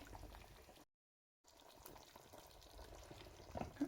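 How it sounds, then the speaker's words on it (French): Lamb peanut sauce for Senegalese mafé, with vegetables added, simmers in a pot with a soft, steady bubbling and faint sizzle, very quiet and close, briefly cut to silence near the start. "je laisse encore ma sauce cuire"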